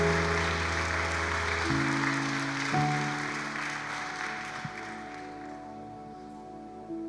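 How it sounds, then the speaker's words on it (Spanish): Applause of welcome from a church congregation, a steady wash of clapping that fades gradually over several seconds, heard alone without talk. "démosles otro fuerte aplauso de bienvenida"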